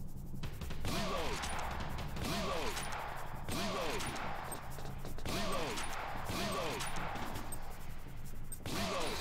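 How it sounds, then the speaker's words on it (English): Sniper rifle shots in the light-gun arcade shooter Ghost Squad, loud cracks repeating at a steady pace about every second and a half, each with a short ringing tail over continuous game noise. "Attack the enemy using this sniper rifle"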